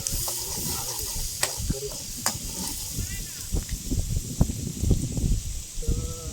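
Turmeric tossed into a frying pan and stirred while cooking fish curry outdoors by a dam, giving a steady close sizzle with scraping stir strokes and a few sharp utensil clicks throughout.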